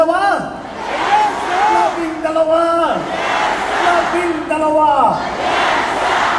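A large crowd at an evening political rally in Pasay, Metro Manila, chants the same rising shout three times in a steady rhythm. Many voices are loud and close.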